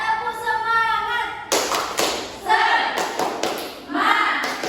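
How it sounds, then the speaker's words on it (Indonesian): Primary school class doing the rhythmic 'tepuk semangat' clapping chant, sharp bursts of clapping in short rhythmic groups near the microphone, with children's chanting voices and a teacher's voice between them. "di sini Miss ada ice breaking terlebih dahulu dengan tepuk semangat"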